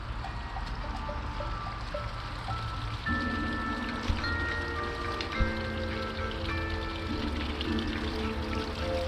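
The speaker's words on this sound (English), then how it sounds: "It's raining." Steady rain falls outdoors in spring, a dense continuous hiss of drops hitting surfaces close by, with a few sharper drips now and then and no voices.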